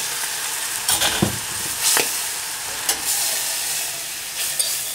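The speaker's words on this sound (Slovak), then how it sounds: "Pekne si opražíme múku." Plain flour toasting in melted butter for a roux, a continuous bright sizzle close by, broken by occasional clinks and scrapes of a stirring utensil, no one speaking.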